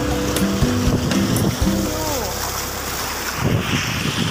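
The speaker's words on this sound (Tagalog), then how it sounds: "Ayan yung alon guys." Waves slap and wash around a kayak on a rainy day, with steady broadband rush of water and wind buffeting the microphone, and a brief tonal chirp early on.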